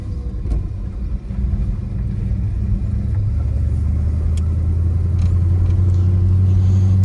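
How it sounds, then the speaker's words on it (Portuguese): Steady low engine rumble from earthmoving machinery working around a warehouse construction site, continuous and fairly loud, building toward a heavier drone in the later seconds, with no speech. "estamos aqui em obras trabalhando a terraplanagem aqui do entorno do Galpão 4"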